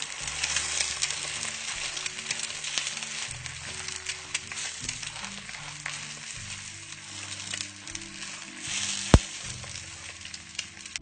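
Sausages and egg-dipped bread sizzle steadily in a frying pan over reduced heat, a continuous, fairly quiet crackle with occasional utensil taps and one sharp clink near the end.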